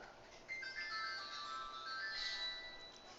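Faint electronic phone tones and chirpy melodic beeps from someone playing with a phone, soft and continuous for a few seconds, no talking.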